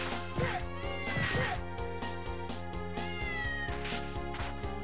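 A kitten meows repeatedly in the DS game Castlevania: Order of Ecclesia over steady electronic game music, the meows rising and falling in pitch, with no talking.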